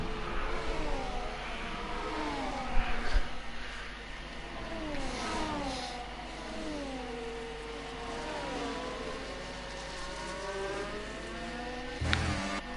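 Formula 1 race cars at the Austrian GP in F1 24 scream past with rising and falling engine whines, several cars overlapping as they shift gears, loud and continuous with a brief clatter near the end.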